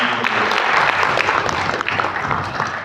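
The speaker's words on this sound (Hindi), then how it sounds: "एक बार शानदार ताली होनी चाहिए" An audience at a sales training session in Delhi breaks into dense, steady applause, loud and continuous throughout with no speech over it.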